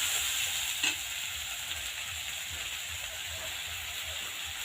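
Spice paste of crushed garlic, green chilli paste and cumin paste sautés in a pan for jackfruit curry, giving a steady close sizzle and hiss with a brief stirring scrape near the start and no speech.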